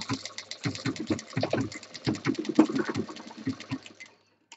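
A sewing machine stitches a handbag in rapid, steady bursts of needle clatter, close and loud, with brief pauses between runs before falling silent at the end.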